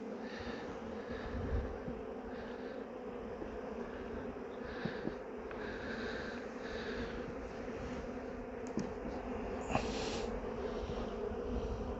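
Honeybees buzz around an open hive during a spring inspection, a steady droning hum of many insects close by, with faint handling knocks now and then.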